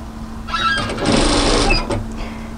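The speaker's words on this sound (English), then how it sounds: "we're going to sew on top of our overlocking line" A sewing machine runs a short, steady burst of stitching along the overlocked seam of a cropped tailored knit military-style jacket, loud and close, with a faint hum underneath.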